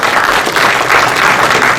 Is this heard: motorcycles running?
no